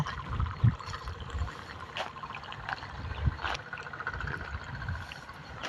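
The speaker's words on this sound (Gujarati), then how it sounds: "આમાં પાણી ચાલુ છે" Irrigation water runs through a wheat field, a soft continuous trickle and gurgle heard faintly at close range, with a few low thumps scattered through the steady flow.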